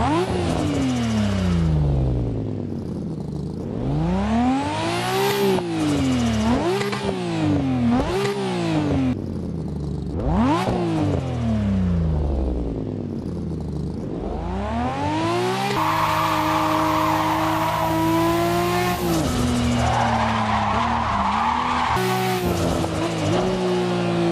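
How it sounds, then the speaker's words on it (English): A Nissan Skyline R34 in the racing game Assetto Corsa revs hard through repeated rising and falling engine sweeps as it shifts gears, then settles into a high, sustained whine with tyre squeal, loud and close throughout. "And then here's everyone's favorite, I'm sure, which is the Skyline R34, so enjoy"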